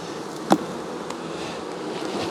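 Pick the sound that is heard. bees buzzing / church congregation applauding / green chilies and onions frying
bees buzzing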